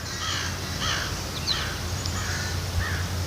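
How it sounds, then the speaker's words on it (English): Crow calling in a garden in summer, a few harsh caws spaced through a couple of seconds at moderate distance over a low steady background hum. "There goes the crow."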